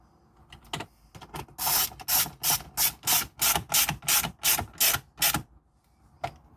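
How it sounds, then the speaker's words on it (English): Screws are driven in around the shifter of an Audi A4 B7, heard as a quick run of loud, evenly spaced mechanical whirring bursts, close up, with a few softer clicks before and after. "Minus the 2 screws that go right here, which we will obviously put in right now"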